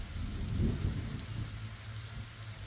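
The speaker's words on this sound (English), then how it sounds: "So this is a storm above the library." A steady wash of rain with a low rumble of thunder swelling early on, from a stormy scene above a library in the video game The Darkside Detective, continuous and without talk.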